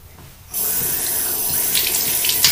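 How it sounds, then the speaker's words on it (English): A tap turns on and water runs steadily into a sink as hands are washed beneath it, a close, constant splashing rush with brief brighter splashes near the end. "And I wash my hands."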